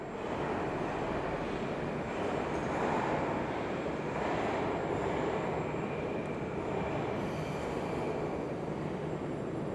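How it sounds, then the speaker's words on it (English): A modern Moscow metro train on the brown line running steadily, a continuous broadband rumble and rush of wheels and motors with a faint high whine, even in loudness throughout and with no talk. "the brown line has more modern trains, and the trains don't make as much noise as the green line."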